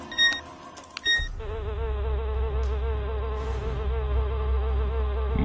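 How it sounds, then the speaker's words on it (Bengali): Cartoon housefly buzzing loud and close, a steady continuous drone after a brief clatter of other effects at the start, with no voices. "মাছিটা"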